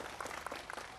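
Audience applause at a Cak Nun community gathering: a brief burst of dense, steady clapping from many hands, close and loud, with no talk over it.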